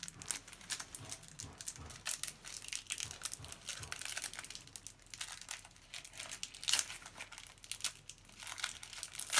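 A foil Match Attax 2019 Champions League trading card pack is torn and crinkled open up close, with continuous crackling and crumpling rustles for several seconds and no talking.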